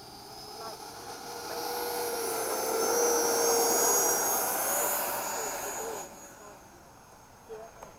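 Hawk jet aircraft taking off in formation after sunset, a loud broadband engine roar swelling to a peak mid-clip then dropping away, heard alone without talk.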